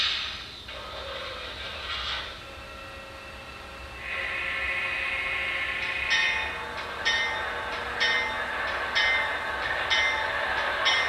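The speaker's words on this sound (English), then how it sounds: "you'll see the locomotive come down the track, and it will switch each of the switches on its own." An HO scale model locomotive runs along a layout track with automatic switches, giving a steady whirring motor hum and small rhythmic clicks close by, alone with no talk.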